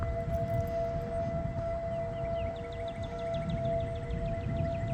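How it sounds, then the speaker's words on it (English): Tornado warning sirens in Oklahoma during storm season, a steady, droning wail over a rumbling, noisy background with a faint warbling tone on top, continuous throughout. "Sirens are going off."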